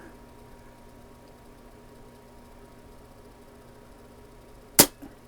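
A single sharp crack from a rebuilt Daisy 299 BB gun fired at a target outdoors, with a faint follow-up tick, after several seconds of quiet background.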